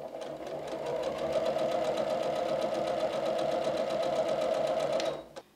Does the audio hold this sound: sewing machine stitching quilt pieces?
yes